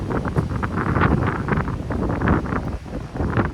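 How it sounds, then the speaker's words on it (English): Strong gusty wind buffets the microphone with a loud, roaring rumble that rises and falls throughout, with no voices. "this is getting super windy"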